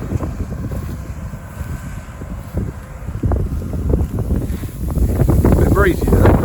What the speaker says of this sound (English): A bit breezy though.